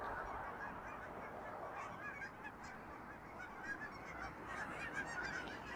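A big flock of geese honks overhead during an October walk in Regina, a steady chorus of overlapping calls that stays moderately distant and continuous, with no talking.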